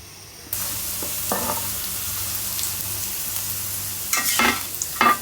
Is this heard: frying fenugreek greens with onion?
yes